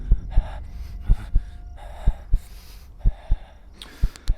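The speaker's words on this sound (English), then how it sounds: "The breathing starts to kick in." Heavy, labored in-game breathing of a low-stamina character in The Dark, a horror game: repeated gasping inhales and exhales in an uneven rhythm, close and prominent, with dull low thuds under each breath.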